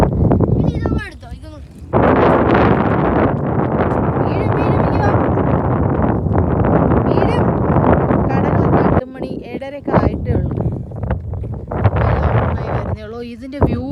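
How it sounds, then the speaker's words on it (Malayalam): Strong wind roars and buffets steadily across an open hilltop at Parunthumpara viewpoint, loud and nearly constant with brief lulls, while people talk through the gusts. "ഭയങ്കര കാറ്റ്."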